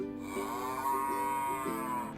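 A cow lets out one long, steady moo, loud and close, with no other sounds around it.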